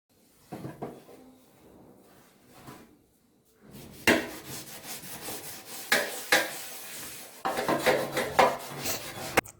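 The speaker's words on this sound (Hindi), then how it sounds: "तो बस अभी मैं इसको जूने से घिस रही हूँ अच्छे से" An aluminium pan scrubbed with a scouring pad, giving irregular scraping and rubbing bursts, quiet at first then louder and more vigorous, with occasional metallic knocks of the pan.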